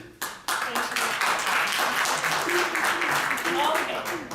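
Audience clapping at a university debate on Biafra, a dense wash of many hands filling the room after a sharp start, with voices and murmuring mixed in throughout.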